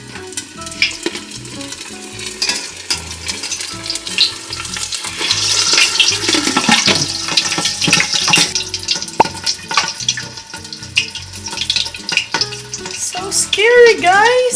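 Crispy pata, a whole pork leg, deep-frying in a covered pot, a steady bubbling sizzle with crackles and spits that grows louder and busier midway, heard close.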